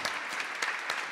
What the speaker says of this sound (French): Merci à vous de l'applaudir